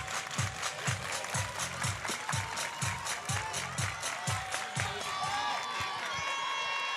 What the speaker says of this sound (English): Now we got some crowd noise.